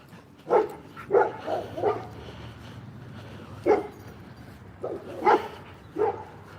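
Dogs bark outdoors in a scattered series of about eight moderately loud barks, some in quick pairs, against a low background hum.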